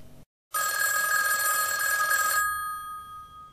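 A telephone bell rings in a house, one bright, continuous electric ring lasting about two seconds that begins after a moment of silence and then fades out.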